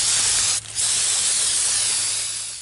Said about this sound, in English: the first step is going to be to hit them all with brake cleaner and get them nice and degreased